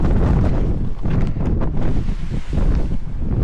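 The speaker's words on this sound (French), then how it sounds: "Il y a le vent aussi, là." Strong wind gusting at a cliff edge in Washington State, roaring steadily into the microphone with loud low buffeting throughout and no voices.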